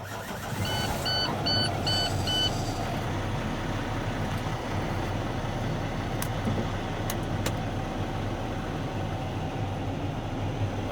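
A semi fuel tanker truck's diesel engine cold-starts with a brief starter whine and chimes, then settles into a steady, loud rumbling idle close by.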